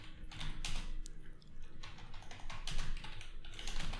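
A title being typed on a computer keyboard, steady close-up key clicks in quick runs with small gaps, over a low background hum and no voices.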